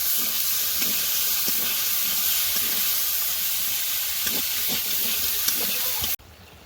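Cut taro stolons hit hot spiced oil in a pan, raising a loud, dense, steady sizzle with faint stirring knocks throughout before it cuts off abruptly near the end.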